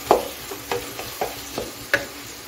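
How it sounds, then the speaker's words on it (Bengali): Tomatoes sautéed in a pan for egg kalia, with a spoon stirring and scraping in about five evenly spaced strokes over a soft background sizzle, close and moderately loud, with no voices. "এখন আমি সব কিছু ভালো করে কষিয়ে নেব।"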